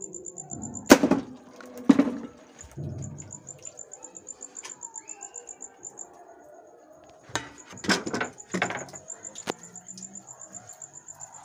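A CBC Jade 5.5 air rifle fires into a row of water-filled beer bottles outdoors, giving several sharp, isolated cracks and impacts while birds chirp and tweet in the background.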